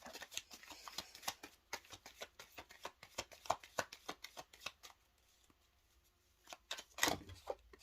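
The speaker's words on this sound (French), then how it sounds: "il y a trop de cartes qui tombent" Tarot cards are shuffled by hand in a rapid run of soft riffling slaps, then pause briefly before a few more shuffles and one louder clatter as cards fall, all close and without talk.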